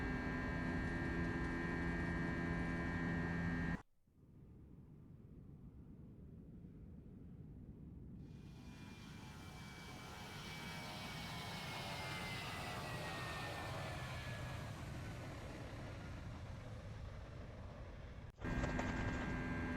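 Simulated FSLabs A321 jet engines spooling up to climb thrust: a steady broadband roar that cuts out briefly, then swells gradually louder, before shifting abruptly near the end.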